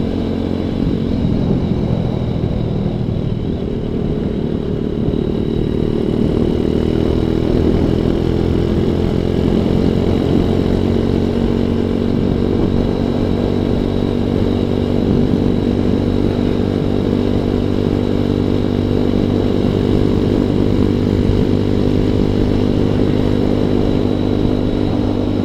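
A ZS190 Grom clone motorcycle rides along with a constant engine drone whose pitch rises and falls through gear changes, loud and close throughout with wind noise and no talking.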